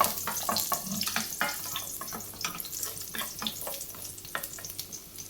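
Five halved small shallots sauté in hot oil for a traditional Kerala pumpkin chutney, giving a steady, fairly quiet crackle broken by frequent sharp ticks and scrapes from stirring, with no one talking.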